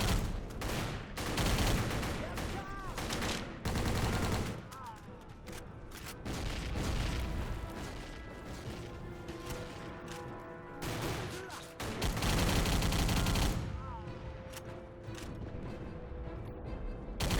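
Bursts of machine-gun fire cut down waves of enemies in a shooter video game, rapid loud rattling volleys mixed with booms and explosions, pausing briefly between bursts.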